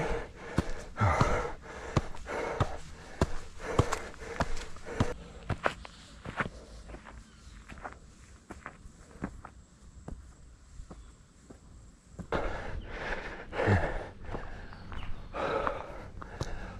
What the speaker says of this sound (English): Enjoy my heavy breathing.